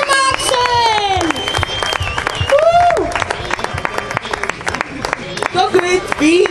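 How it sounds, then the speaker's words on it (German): A volleyball crowd at a BVC Grafenbach match claps and cheers for the second referee: dense, steady applause mixed with bright whistle-like tones and raised voices throughout. "Einen Applaus für Maxl"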